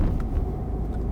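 A car accelerating gently during a driving lesson, a steady low engine rumble filling the short stretch, close and continuous with no talk over it.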